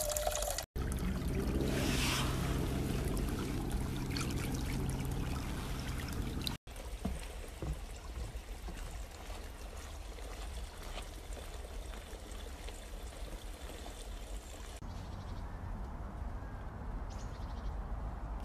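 Small natural spring in Troparyovo park trickling steadily, a soft continuous watery babble heard close by, with faint wind and handling noise and a brief cut partway through.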